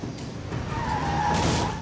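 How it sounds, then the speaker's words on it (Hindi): A red car in a video game drives past the customs area with a skidding tire squeal that rises over a steady engine roar, loud and close throughout. "हाँ, रेड कार। वो कस्टम्स के पास से जा रही है।"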